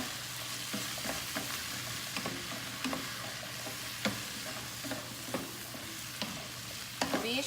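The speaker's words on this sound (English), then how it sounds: "give it a good stir" Onion sautéing in a pan on lowered heat while being stirred, a steady close sizzle with periodic scrapes and clicks of the spoon against the pan, no voices.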